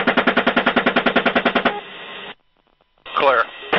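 Rapid bursts of heavy machine gun fire from a helicopter during an airstrike in Baghdad, a fast rhythmic stream of loud shots heard over a radio link, then a short gap and a crackling radio voice.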